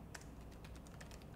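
Rapid keystrokes clatter on a computer keyboard, a quick, quiet run of taps with no voices over them.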